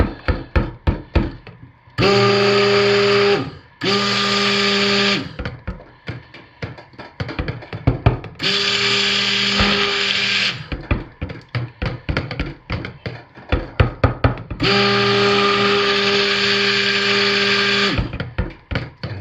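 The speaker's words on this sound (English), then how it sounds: "our stick blender on the high power setting, let's see what happens" A stick blender on high power whirs loudly in three sustained bursts while emulsifying, with sharp knocks and taps against a container in the gaps between them.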